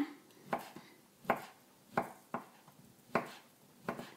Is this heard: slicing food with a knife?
yes